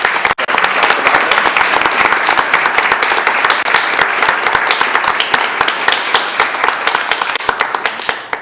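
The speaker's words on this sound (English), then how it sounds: "We can give them a round of applause" Loud, close applause at a school board meeting, many individual claps crisp and distinct in a steady, continuous stream for several seconds.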